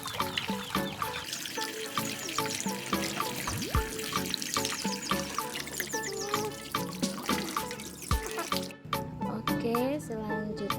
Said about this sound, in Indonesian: Kunyit yang kita gali tadi kita cuci bersih dulu ya.